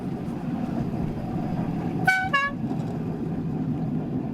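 A small ride-on miniature train pulls out of its station, with a short two-note whistle or horn toot sounding over a steady low rumble of running wheels and machinery.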